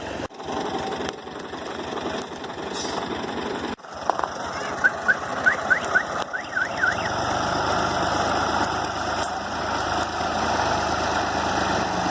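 A tractor-driven wheat thresher running off the PTO shaft, a continuous mechanical engine drone with rattling and knocking, a few short squeaky chirps partway through, steady and close without speech.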